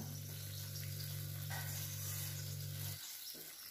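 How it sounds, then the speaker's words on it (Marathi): Khoa roasting and being stirred in a pan for Dharwad peda, a steady close sizzle with scraping stir sounds and a low hum that cuts off near the end, no talking. "बघा खवा असा छान भाजून होईल तसा त्याचा गोळा तयार व्हायला लागतोय, सुटायला लागतंय पॅनपासून."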